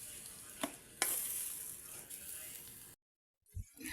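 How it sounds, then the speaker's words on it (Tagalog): Shrimp frying in butter and garlic with mushrooms is stirred in a pan: a steady close sizzle with scraping stirs and a couple of sharp clinks, which stops abruptly near the end before faint kitchen noise returns. "Ihalo-halo lang po yan. Hintayin po nating maluto ng konti yung hipon"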